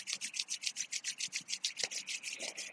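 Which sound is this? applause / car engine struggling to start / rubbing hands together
rubbing hands together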